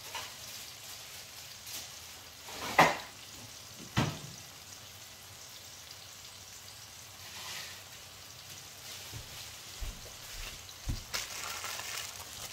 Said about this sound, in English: today I'm just going to have my flour tortilla. I'm going to just warm it up.